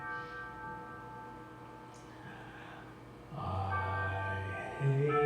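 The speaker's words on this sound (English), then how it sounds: "hate waiting for this bell to finish." Bell ringing with sustained overlapping tones, a steady resonant hum that swells louder toward the end, with no talking over it.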